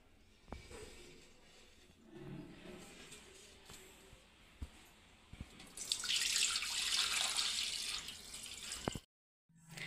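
Water poured off settled wheat starch in a kitchen container, a soft splashing trickle that swells into a louder continuous pour after some quiet handling knocks and bumps, then stops abruptly.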